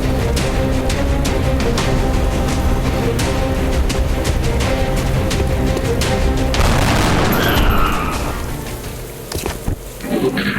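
Sustained gunfire and heavy booms from soldiers in the XCOM: Enemy Unknown video game. A dense, loud barrage runs for about eight seconds, then tapers into scattered crackles and fading rumble.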